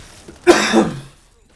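A single short throat-clearing cough from someone commentating Call of Duty: Black Ops 7 multiplayer gameplay, close and fairly loud, lasting about half a second, followed by quiet.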